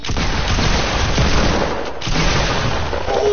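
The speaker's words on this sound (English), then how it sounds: "He tried to kill me with a mini gun." A minigun rattles out a dense, continuous stream of rapid gunfire in a video game, loud and unbroken throughout with only a brief dip in the middle.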